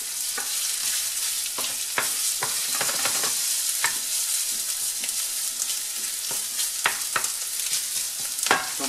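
Pieces of chicken sizzle steadily in a hot pan for a poulet sauce champignon et curry, with frequent sharp scrapes and clicks as they are stirred and browned, loud and continuous without talk.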